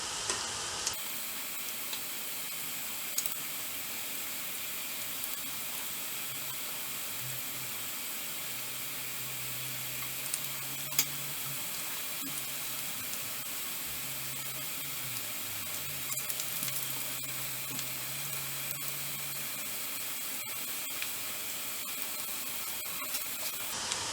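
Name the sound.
methu vadai frying in hot oil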